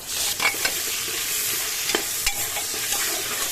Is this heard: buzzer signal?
no